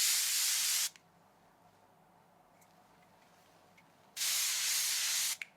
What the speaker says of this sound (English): what we can do is add a little bit more of this spray